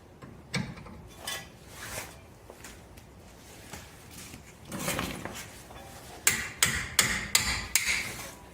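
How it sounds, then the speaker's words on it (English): Wrench working the 7/8 jam nut on the outer tie rod of a 2004-2009 Toyota Sienna, a series of sharp metallic clicks and taps, sparse at first and quicker near the end, close and fairly quiet with no speech. "So you want to start out by taking this jam nut off of the outer tie rod."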